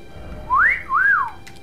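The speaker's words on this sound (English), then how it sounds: "I think we should bring back wolf whistling." A person whistles a wolf whistle, two clear rising-and-falling notes, loud and close over a quiet background.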